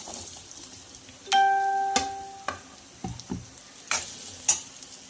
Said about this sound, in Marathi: तर हे 1-2 मिनिट आपल्याला असंच फ्राय करून घ्यायचं आहे।